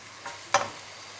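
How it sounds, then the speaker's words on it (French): A brief scrape of a spoon stirring radish-top soup in a cast iron pot, one soft stroke then a sharper, louder one with a faint sizzle, alone against quiet kitchen background. "Voilà, on remue."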